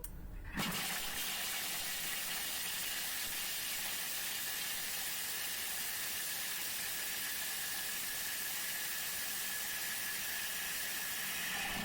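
A food processor milling cheese at speed 7 for a quiche Lorraine topping, starting abruptly and then running as a loud, steady whirring roar for the whole stretch.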